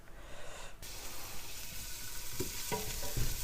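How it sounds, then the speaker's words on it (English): Onions fry in a pan over medium-high heat for cucumber relish, giving a close, continuous sizzling hiss that rises sharply early on, with a few light stirring knocks near the end. "So the onions there are starting to soften, and I've got this over a medium-high heat"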